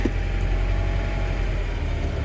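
An LS-swapped 1947 Ford truck pulling forward, its V8 engine giving a steady, close, low rumbling drone with a faint rhythmic pulse, alone without talk.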